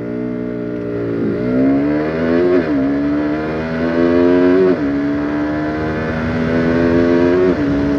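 A KTM RC 200 motorcycle accelerates hard from 0 to 100 km/h, its engine revving up loud and close through several rising pulls, each one broken by a brief dip at a gear change.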